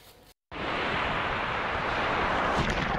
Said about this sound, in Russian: Чем ближе купальный сезон, тем сильнее и громче манит шум морского прибоя.